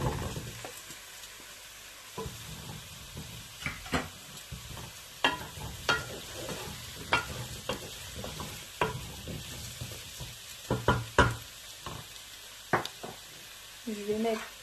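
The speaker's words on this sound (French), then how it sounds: "Je vais le faire revenir un petit peu. Donc là, ensuite, je vais rajouter mes patates douces." Sweet potatoes sautéing in a pan for a sweet potato tajine, a low background sizzle broken by repeated utensil stirs and scrapes at irregular intervals, with occasional talking underneath.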